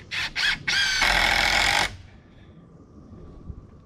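A screw gun drives a screw into a metal porch roof panel, giving a few short whirring bursts and then a sustained loud buzzing drive of about a second before stopping, close by.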